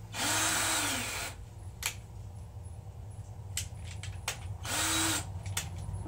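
A power drill drives a screw into a wooden aquarium stand in two loud whirring bursts at the start and around five seconds, with softer clicks and taps between them.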